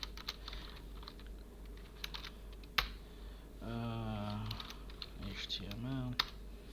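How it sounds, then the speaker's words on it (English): Sparse clicks of computer keyboard typing, a few keys at a time, with a quiet voice speaking in between. "I'm only typing this out"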